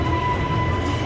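Infusion, a suspended roller coaster at Pleasure Beach, has a single train running with a steady, continuous rumble and mechanical drone from close by, plus a faint tonal whine riding over it. No one speaks.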